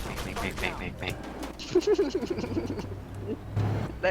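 Tank cannon in the video game Armored Warfare firing in a rapid string of sharp, light pops, a dozen or so quick reports over a steady engine rumble, with faint voices in the background.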